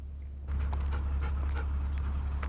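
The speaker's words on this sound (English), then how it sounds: "see if the dog barks at us again" A dog gives several short, faint barks and yips outdoors during a leash walk, scattered over a steady low hum.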